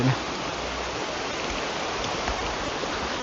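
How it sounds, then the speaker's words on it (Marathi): Dense rain hisses steadily and loudly, close by, without a break. "काय भाऊ पडतो का पाऊस"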